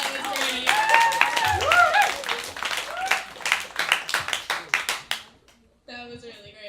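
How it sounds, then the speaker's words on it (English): A small open mic crowd gives a poet a warm round of applause, dense clapping that thins out into a few scattered claps, followed by a voice speaking. "Let's have another round of applause for Kat because that was great."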